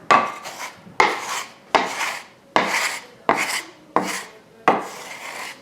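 A dough scraper scrapes cornetti dough against a bowl in seven distinct rasping strokes at a steady pace, each starting with a sharp onset and fading out, close up and with no speech.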